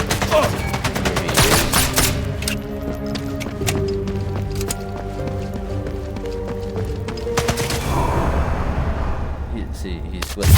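Game weapon fire from Sniper Elite: Resistance: a dense run of sharp shots and impacts over rumbling battle sound, with someone talking over much of it.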